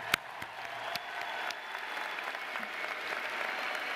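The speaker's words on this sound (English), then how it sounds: "I'd like to ask all of you to join me in giving a big round of applause to the readers." A commencement audience applauds, a steady wash of many hands clapping at moderate distance, with a few sharper claps standing out near the start.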